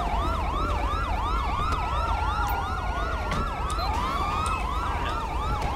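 Loud, continuous police siren wails from a cruiser in GTA 5, rising and falling in repeated sweeps while another siren overlaps and engine drone rumbles underneath.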